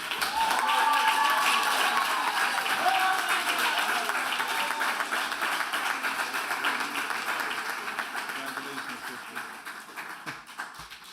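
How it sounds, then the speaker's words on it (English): An audience at a Muslim graduation ceremony applauds steadily for a student minister, the sustained clapping gradually fading, with voices audible over it early on. "Please welcome with a warm round of applause the Student Minister of Mosque Number 25, Ne"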